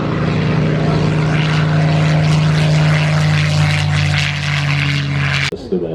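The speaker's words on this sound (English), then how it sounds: "Kind of beat the sound of Rolls Royce Merlin." A Spitfire with a Rolls-Royce Merlin engine flying at an airshow, Wings Over Wairarapa 2021, giving a loud, close, steady propeller and engine roar that holds throughout, then cuts off sharply.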